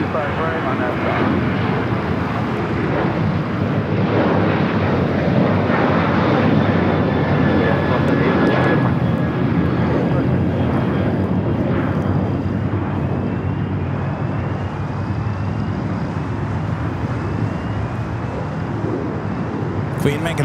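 Jet engine roar from an American Airlines airliner taking off at LAX, a steady broad rumble holding loud through the whole stretch, with voices talking over it.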